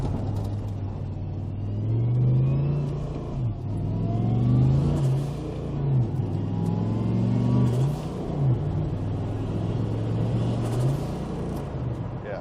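A car engine revving hard on a dynamometer in a shop, a loud sustained drone rising and falling in pitch through repeated acceleration pulls, heard from inside the cabin.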